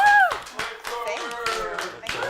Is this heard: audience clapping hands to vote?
yes